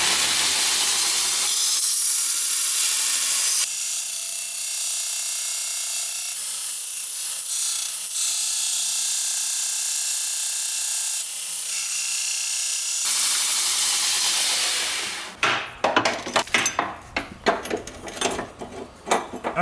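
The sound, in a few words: belt sander removing material on Nissan Cefiro turbo build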